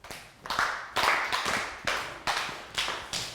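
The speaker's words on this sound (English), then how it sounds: "High five, round of applause." Students in a classroom clap together in a steady, evenly spaced rhythm of about seven sharp claps, close and moderately loud.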